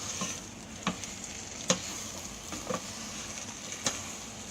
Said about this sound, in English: Let's stir it up a bit, shall we?